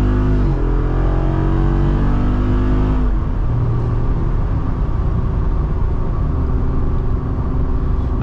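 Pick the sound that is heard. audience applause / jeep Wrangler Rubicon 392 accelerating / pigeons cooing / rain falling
jeep Wrangler Rubicon 392 accelerating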